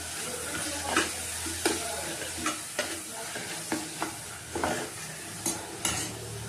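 Garlic paste and yogurt stirred in a sizzling pan for Kathiyawadi veg biryani, with a steady frying hiss and about a dozen distinct spoon scrapes and clinks at an uneven pace, close and clear with no talking.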